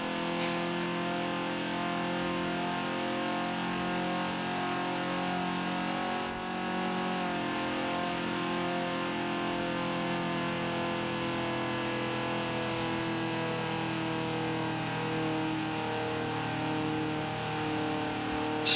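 Stock 1980 Fiat 124 Sport Spider engine straining as it revs uphill in Forza Horizon 4, a sustained mid-pitched drone holding steady throughout, fairly quiet and with no talk.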